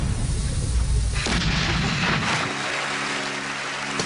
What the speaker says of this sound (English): Do you like to actually set the explosion off?